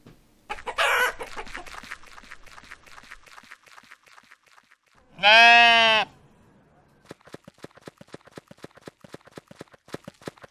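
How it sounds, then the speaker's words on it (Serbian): A short burst of hen clucking, then a loud rooster crow in the middle, with sparse clucks and scratching sounds around it and no talking. "To je kokoška."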